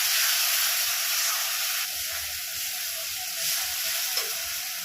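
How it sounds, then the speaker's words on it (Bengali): Spice paste for a prawn and Malabar spinach chorchori frying in a pan, a loud, dense, steady hiss of sizzling close by with only faint stirring, and no talking. "এবার মশলাটা আমি একটু সময় নিয়েই কষিয়ে নেব।"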